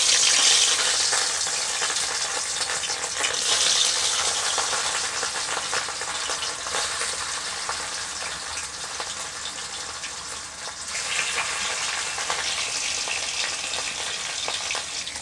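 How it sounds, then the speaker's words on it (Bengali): Rohu fish frying in hot oil in a wok, a loud, continuous close-up sizzle that swells and settles as pieces are turned, with no talking. "এখন আমি এর মধ্যে মাছগুলো ভেজে নেব"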